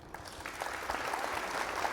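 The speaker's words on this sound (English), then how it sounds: "An applause for Tim." A short burst of applause plays, light and somewhat thin, as a sound effect in the game Elite.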